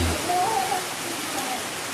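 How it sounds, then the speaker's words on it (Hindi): Very heavy rain pours down in the Ahwa, Dang hills of Gujarat during a storm, a dense, steady hiss that stays loud and even throughout. "बहुत जोरदार वरसाद हुई है"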